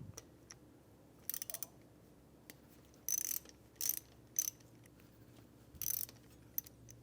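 An 8 mm socket wrench ratchets while removing bolts on a CRF250F dirt bike, giving several short clicking bursts separated by quiet pauses, close and fairly faint.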